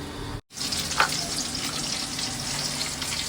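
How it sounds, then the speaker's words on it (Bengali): Onion, garlic and green chili fry in a pot, giving a steady, close sizzle that runs without a break apart from a brief dropout near the start. No one speaks. "পাতিলে দিয়ে দিয়েছি আমি পেঁয়াজ রসুন কাঁচামরিচ আর পেঁয়াজটা ভাজা হয়ে গেছে"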